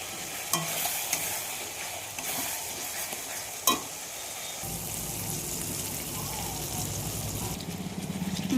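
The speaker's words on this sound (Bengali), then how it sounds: "মাংসটা দিয়ে দিয়েছি, এবার নাড়বো, একটু কষবো।" Goat meat being stirred and fried in a pan, with scraping stir strokes and a few sharp knocks over a continuous close sizzle that grows busier toward the end.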